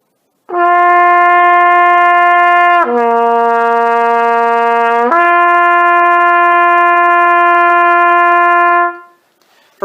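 Trumpet plays a slurred warm-up figure, a sustained bright tone stepping down for a few seconds then returning to the first pitch and holding it long, clear and close, alone.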